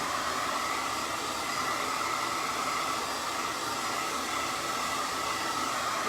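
A hair dryer blows steadily over freshly painted craft bumblebees, giving a close, loud, even rushing whoosh of air with no pauses or talking.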